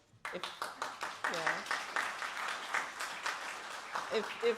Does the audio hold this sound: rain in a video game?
no